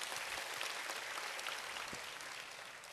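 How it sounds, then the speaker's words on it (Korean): An audience gathered for a Bible-memorization session claps warmly, a dense, even wash of many hands held at a steady level for a few seconds with no talk over it. "뜨거운 박수."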